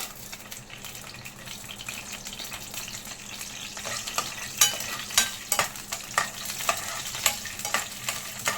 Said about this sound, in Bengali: ফ্রাই প্যানে বাদাম ভেজে নেব